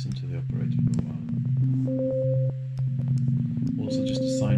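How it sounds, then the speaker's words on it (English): Pure sine tones from an Ableton Operator synth, sustained steady pitches stepping between a few notes with short clicky onsets, loud and clean, with speech-like layers and bright noisy bursts near the end. "Also just a sine wave at the moment"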